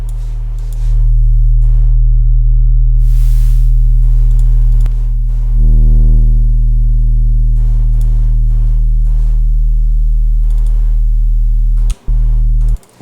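A loud, steady dubstep synthesizer sub bass drones with a hissing noise layer added, its upper harmonics shifting partway through before brief cut-outs near the end.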